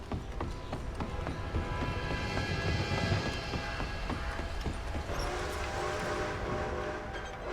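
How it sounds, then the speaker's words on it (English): In the video game Red Dead Redemption 2, a train approaches under a steady rumbling rush, mixed with rhythmic galloping hoofbeats, moderately quiet and continuous. "A train!"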